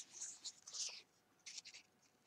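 Soft, close crisp snips and rustling of paper being cut, in two short clusters separated by a brief pause, fairly quiet.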